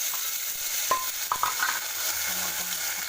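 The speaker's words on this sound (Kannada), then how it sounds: "ಒಂದು ಪಾತ್ರೆ ಇಟ್ಕೊಂಡು ಎಣ್ಣೆ ಬಿಸಿ ಆದಮೇಲೆ ಟೊಮೊಟೊ ಕತ್ತರಿಸಿರುವ ಟೊಮೊಟೊ ಹಾಕೋಬೇಕು" Chopped tomatoes tipped into hot oil in a pot, giving a steady broadband sizzle with a few sharp clinks and a brief splash of contact, no talking, heard fairly close.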